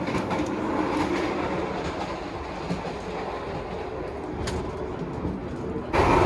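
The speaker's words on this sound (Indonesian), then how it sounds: "Wah berisik banget coy, lewat rel Solo Jogja." Train running on the Solo–Jogja line, heard from inside the Sangkuriang passenger train near the dining car: a loud, steady rumble with rhythmic clickety-clack of wheels over rail joints, and a louder surge at the very end.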